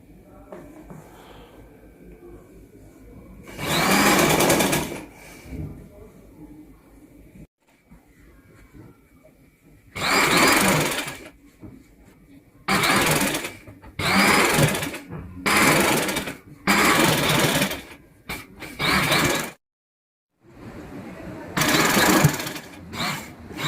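A sewing machine stitches two gathered sharara frills together in loud bursts of running whirr, several separate runs with short pauses between them and quiet handling noise in the gaps.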